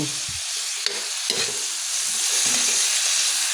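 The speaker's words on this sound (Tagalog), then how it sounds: "Ako igisa ko muna yung batikulon." Chicken gizzards (batikolon) sautéing in a pan, a loud close steady sizzle with a couple of brief stirring scrapes early on.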